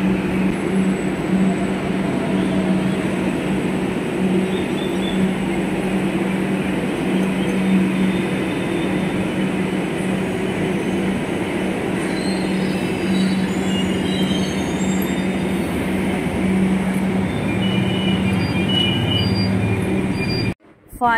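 A Kolkata Metro train carries riders on an empty morning run toward Kalighat. Its steady rumble and rail roar hold close and loud for about twenty seconds, with faint wheel squeal, then cut off abruptly at the end.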